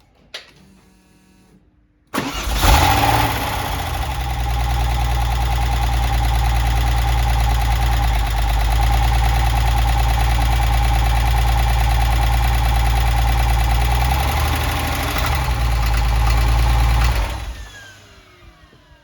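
A Porsche 993 engine, just reinstalled, cranks and catches after a quiet moment, then settles into a loud, steady, close idle for about fifteen seconds before shutting off, with no talking.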